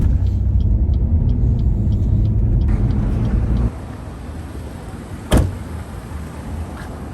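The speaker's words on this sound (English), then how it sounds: "there's literally cars every like 2 seconds" Road traffic rumbles past steadily at night, a deep low engine drone that eases off partway, with a brief sharp click or knock near the end.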